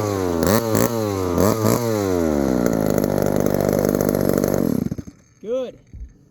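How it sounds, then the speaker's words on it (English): An old, rare 1972 Remington chainsaw revs hard with rising and falling engine pitch, holds a loud, close roar, then cuts off abruptly, followed by a brief whirring sound. "An old rare chainsaw"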